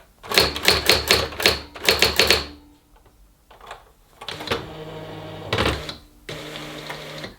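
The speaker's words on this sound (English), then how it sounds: "I thought I'd show you this typewriter" A Brother AX-15 electronic typewriter types in rapid bursts of sharp clacks, then pauses and gives a few slower strikes with mechanical whirring and carriage movement, close and loud, no talk.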